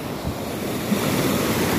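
The Relli river rushes past in a steady, loud broadband roar of flowing water heard from midstream, with gusts of wind buffeting the microphone.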